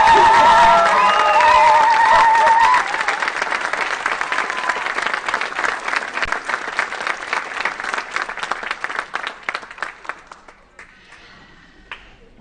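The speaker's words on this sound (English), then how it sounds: "Can we have a nice round, roaring Haskell round of applause?" Graduation ceremony crowd at Haskell Indian Nations University's fall 2024 commencement bursts into loud, sustained applause with cheering and whoops, the clapping thinning into scattered claps and fading away near the end.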